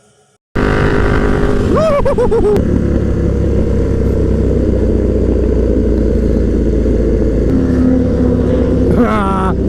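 Motorcycles on a group breakfast run in Johannesburg roar past loudly and close, engines revving and rising in pitch as a rider passes on a wheelie, over a continuous heavy engine drone and wind with faint voices.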